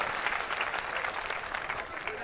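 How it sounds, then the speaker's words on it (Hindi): An audience at a comic poetry gathering applauds with a brisk, moderately quiet patter of clapping. Background murmur runs under it. "तालियां कमजोर है यार आप लोगों की यार"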